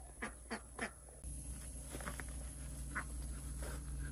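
Ducks on a pond or pool give three quick, fairly close quacks, then a denser, continuous outdoor wash of noise carries on to the end.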